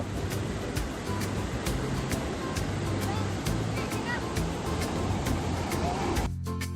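Sea waves roll in at RK Beach in Visakhapatnam, a steady broad wash of surf mixed with wind and distant traffic, with voices talking over it.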